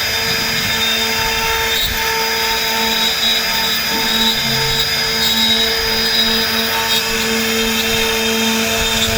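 A CNC router carves a wooden door design, its steady high whine and grinding hum droning loud and unbroken, with faint shifts as the cutter moves across the wood.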